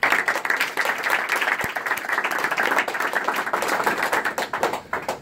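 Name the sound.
audience applause for a panel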